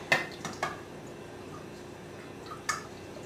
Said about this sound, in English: And we're going to stir it up.